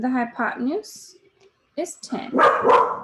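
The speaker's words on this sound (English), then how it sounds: "that's my dog" A dog barks a few times in the background, partly overlapping a person speaking.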